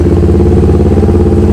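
A motorcycle fitted with a loud racing exhaust runs with a steady, throbbing mid-pitched engine note, close and continuous for a brief moment with no voices.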